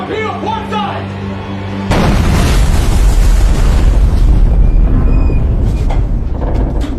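A torpedo explosion in a wartime naval battle erupts suddenly after a tonal, quieter passage, becoming a loud, sustained roaring boom with rumbling debris and turbulence that continues to the end.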